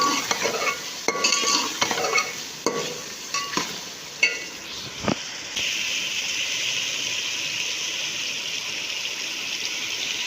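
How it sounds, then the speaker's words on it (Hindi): Ginger and garlic fry in a pot with oil, a spoon scraping and clinking in several stirring strokes before the pan settles into a steady, close sizzle, with no talking. "ये देखें अदरक लहसुन बिल्कुल अच्छे तरीके से बुनाई हो गई।"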